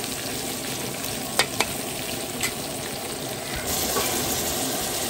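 White onion hits a hot pan for tortang katuray, a dense steady sizzle with a couple of spatula knocks, and the frying hiss swells louder near the end with no voices.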